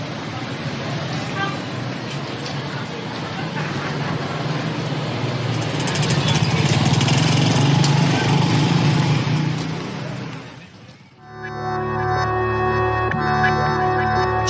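Scooters and engines passing along a road in a Balinese village, a dense rumbling traffic wash that swells louder midway, then gives way to a different tonal scene.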